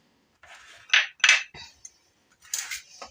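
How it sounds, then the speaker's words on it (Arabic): Knife scraping and peeling carrots in a home kitchen, heard as a few separate rasping strokes, close and moderately loud, with short pauses between scrapes and no talking. "اول حاجه غادي ندير هي غادي نقي هاد الجزرات"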